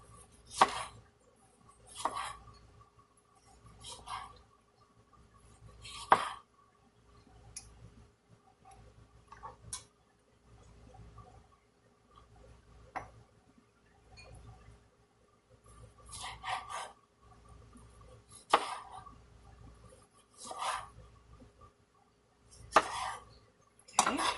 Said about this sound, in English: I'm going to slice the tomato, very thin slices